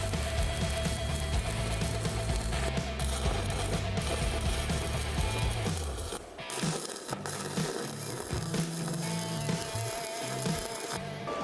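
Steel angle iron is arc-welded with spatter, a steady close crackling sizzle like heavy rain, with a mechanical hum underneath that changes partway through.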